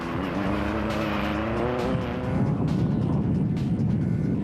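A rally race car overshoots a corner on a gravel stage, its engine revving hard and dropping as the car slides, with tyre and gravel noise rising behind the falling engine note.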